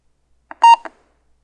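Loud electronic beeps from a DOS computer game, Gelfling Adventure: three quick tonal bleeps in a row, the middle one longest and strongest, with silence before and after.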